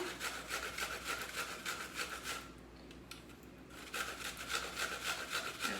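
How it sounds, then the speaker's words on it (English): Half a large onion is rubbed against the coarse side of a box grater in quick, steady rasping back-and-forth strokes, close and moderately loud, with a short pause midway before the grating resumes. "I'm gonna use a box grater, and I'm gonna go ahead and grate my onion."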